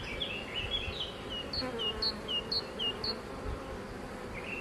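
Honeybees buzz around an open beehive in a steady, dense drone, with several individual insects whining past close by in short rising and falling passes.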